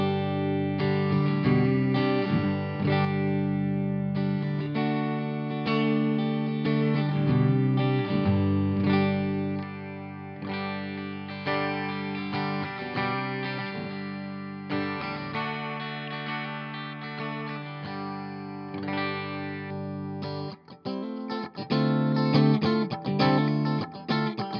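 An Ibanez AZES31 electric guitar plays a clean tone through a Laney Lionheart Loudpedal, sustained chords and notes ringing loud and continuous for the whole stretch, alone without talk.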